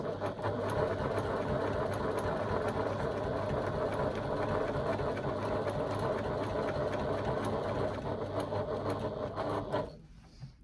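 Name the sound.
sewing machine stitching along fabric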